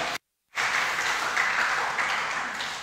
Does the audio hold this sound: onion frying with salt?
no